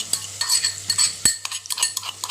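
Crushed garlic stirred with a utensil in a pan over onions for masala vegetable khichdi, with light frying sizzle and repeated scraping clinks close by, no talk.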